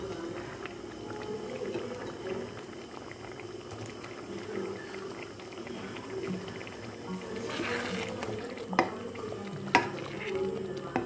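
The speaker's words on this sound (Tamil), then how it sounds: "இப்போ நம்ம பன்னீர் க்யூப்ஸ் எல்லாத்தையும் ஆட் பண்ணிடலாம்" Paneer cubes go into a hot, sizzling masala gravy and are stirred, giving a soft steady bubbling and sizzle with occasional spoon scrapes and clinks close by.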